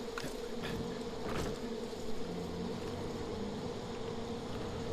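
Buzzing of hornets and bees in the Far Cry 5 video game, a steady droning hum that holds evenly at moderate level through the whole stretch, with no voices over it.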